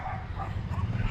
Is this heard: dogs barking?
yes